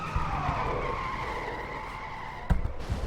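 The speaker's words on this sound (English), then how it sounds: "And we got ourselves another wreck." Race cars in an IROC racing video game at Daytona wreck with a long, loud tire skid that squeals on under engine drone, ending in a sharp impact crack near the end; no one talks.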